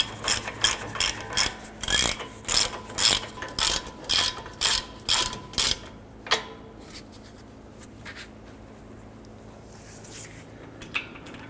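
A hand ratchet snugging the wheel hub bolts on a 2009-2015 Honda Pilot, a series of quick clicking bursts close up for about six seconds, then quieter with a few isolated clicks and clanks.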